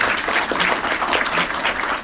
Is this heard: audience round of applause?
yes